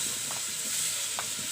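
Raw green banana pieces, coated with turmeric and salt, fry in hot oil in a wok, giving a steady close sizzling hiss with a few soft stirring bumps.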